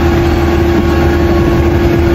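A tractor engine runs steadily while harrowing a field, a loud, close, continuous drone with a strong steady hum and no voices.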